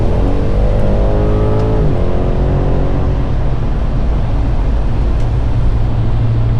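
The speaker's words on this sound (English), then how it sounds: "but this engine makes it all worth it." BMW M550i engine revving, the pitch climbing sharply then dropping as it accelerates, followed by a loud, steady roaring drone close by with no talk.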